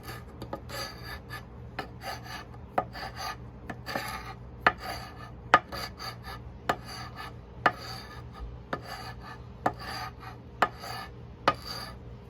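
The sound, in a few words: scraping old varnish off wooden frame of Morris Minor Traveller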